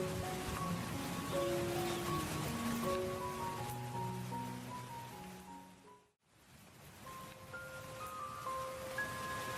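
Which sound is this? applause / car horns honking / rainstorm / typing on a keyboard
rainstorm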